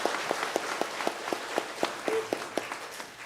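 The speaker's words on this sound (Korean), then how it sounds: "다시 한번 큰 박수를 한번 격려하겠습니다." Congregation clapping in a church, a dense burst of applause with regular sharp claps standing out, moderately loud and sustained for a few seconds, no talking over it.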